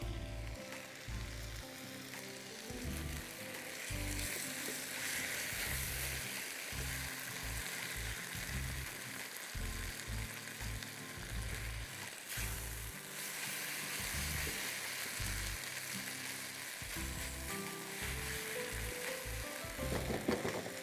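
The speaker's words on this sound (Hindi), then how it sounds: "इसको आप स्टर फ्राई करते रहिए बहुत कम टाइम" Kung Pao beef stir-frying in a wok with chili sauce and a little ketchup, a steady loud sizzle with a rhythmic low clatter and scraping of the spatula throughout, no talk.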